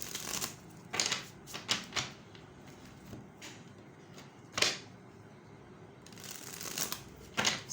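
Tarot cards being shuffled close up, a run of crisp riffling bursts and soft flutters spaced by short pauses, with no talking.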